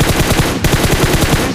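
Rapid automatic gunfire in the battle-royale game PUBG Mobile, loud and close, a steady stream of shots with a brief gap partway through, no talking over it.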